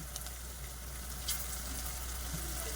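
Cut pieces of taro root (chamadumpa) fry and sizzle steadily in hot oil in a pan for a curry with egg, a constant close crackle with a low hum and no talking.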